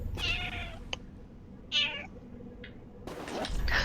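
A cat meows several times nearby in a quiet room, short clear calls separated by pauses, ending under a burst of background noise.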